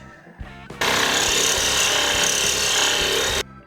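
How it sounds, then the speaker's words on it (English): A Sawzall reciprocating saw fitted with a Power Fist blade cuts on a rusty rig for a Jeep Cherokee Chief, a loud, steady rasping buzz running close for nearly three seconds before stopping abruptly. "I never would have bought a power fist sawzall blade"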